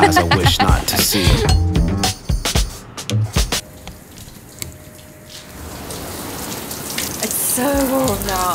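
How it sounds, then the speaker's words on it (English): Running water from a household shower in winter, a steady hissing spray that drops out briefly midway and returns, with a person talking over the start and end. "Enjoy the shower a little bit more because we're about to go back out there"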